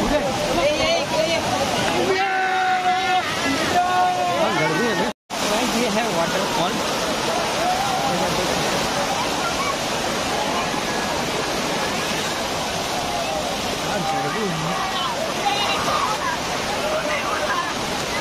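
Bhivpuri waterfall near Mumbai roars as a loud, continuous rush of falling water, with brief voices early on and a short dropout partway through.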